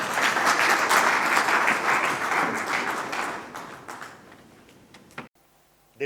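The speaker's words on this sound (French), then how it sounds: "on va encore une fois de plus augmenter les acclamations vu qu'il n'est pas encore là" A large audience at a Congolese tourism event breaks into dense, loud applause with cheering that holds steady for several seconds, then thins out and fades, ending in near silence with a final brief knock.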